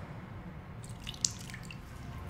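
Water poured into pumpkin bread batter made with canned pumpkin puree, heard as faint drips and a small splash over a quiet kitchen background.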